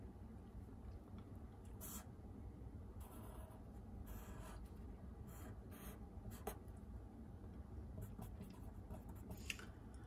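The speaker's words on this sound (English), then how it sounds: "So let me write it down over here." Marker strokes on a board while writing out a data warehouse schema diagram: faint intermittent squeaks and scratches over steady room hiss, with no talking.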